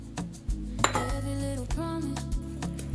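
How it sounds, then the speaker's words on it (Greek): A spoon clinks and scrapes against a bowl while stirring orange juice and sugar with tahini for an oil-free apple pie batter, a few sharp metallic taps among softer swishing, close and alone. "και ανακατεύω."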